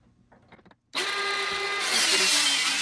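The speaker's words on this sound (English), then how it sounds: "I'm going to use my little M12 cordless saw instead" M12 cordless saw cutting through boards, with a loud whining motor and a rasping cut that starts abruptly after faint handling clicks and builds steadily as the blade bites into the wood.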